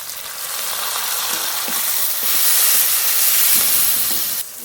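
Chopped onions hiss and crackle in hot oil as they are stirred in a pan, with scraping strokes of the spatula coming through, steady and close, with no talking.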